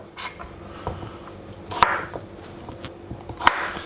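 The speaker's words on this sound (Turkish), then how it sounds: "Daha sonra büyüklüğüne göre bir kere daha bıçak vuruyorum elma dilim şeklini çıkartıyorum." A knife cuts potatoes into wedges on a cutting board, making a few sharp, separate thuds against the board at irregular intervals, close and clear, with a soft rustle between strikes.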